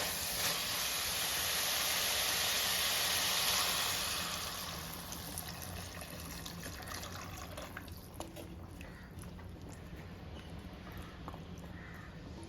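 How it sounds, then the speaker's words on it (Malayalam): Water is poured into a pot of cubed elephant foot yam for a Kerala-style curry, starting as a loud splashing, filling gush for about four seconds before settling into a quieter trickle and faint bubbling hiss. "ഇനി നമുക്ക് ഈ ചേന വേകാൻ ആവശ്യമായ വെള്ളം നമുക്ക് ഇതിലേക്ക് ചേർത്ത് കൊടുക്കാം"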